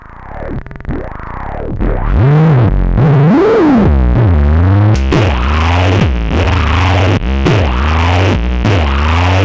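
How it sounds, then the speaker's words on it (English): A loud modular synthesizer triangle wave pushed through distortion sweeps up and down in pitch, buzzing and gritty, with repeated swooping bends and abrupt cuts. "Now we can get like a triangle wave, and we'll throw it into this distortion."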